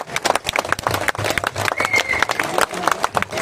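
Audience hands clap in a loose, busy patter with some cheering as a performer named Peter is called to the stage, mixed with voices and a speaking host.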